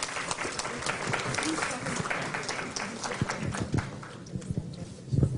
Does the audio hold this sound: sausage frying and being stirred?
no